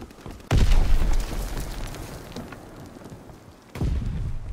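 Two grenade blasts in the Call of Duty WWII video game, each a loud, deep boom with a long rumbling decay, spaced a few seconds apart amid ongoing battle noise.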